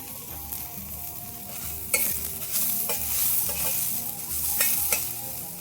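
Onion and garlic dry-roasting in a pan for a village-style fish curry, stirred steadily: a continuous low sizzle broken by repeated scraping strokes of the spatula, close and fairly loud, with no talking.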